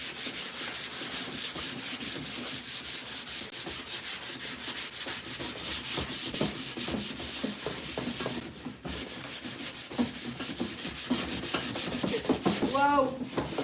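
Close, steady hand sanding of wooden furniture with worn 220-grit sandpaper, fast repeated rubbing strokes going on continuously with no talk.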